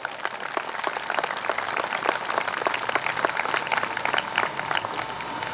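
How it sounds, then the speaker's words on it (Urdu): Audience applause at a college culture day, steady crowd clapping with many overlapping hands, moderately distant and even throughout. "پسماندہ معاشرے کے ساتھ جن لوگوں نے وفا کی ہے ان کے لیے تالیاں بجائیں"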